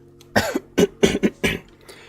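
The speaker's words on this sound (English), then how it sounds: "have to clear my throat a bit." A person clears their throat in a quick series of five or six rough, coughing rasps, close and fairly loud, with short gaps between each burst.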